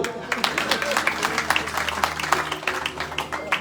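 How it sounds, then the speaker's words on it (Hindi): Audience clapping at a Hindu Shrimad Bhagwat Katha religious discourse in Dwarkadish Dham, a steady patter of many hands running through the whole stretch at moderate loudness, with a low hum beneath. "एक बार देवियों के लिए ताली मारो।"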